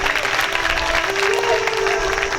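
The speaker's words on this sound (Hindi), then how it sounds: "उनके लिए जोरदार तालियां बजाओ" At a seven-day Hindu religious katha gathering in Firozabad, the audience breaks into loud, sustained applause, dense clapping close by and continuous, with a faint sustained tone running underneath.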